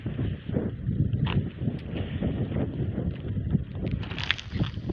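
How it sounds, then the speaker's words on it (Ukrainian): Steady wind buffeting a microphone outdoors, a continuous low rumbling roar with gusty swells, close and fairly loud throughout. "Вітер все-таки у нас великий."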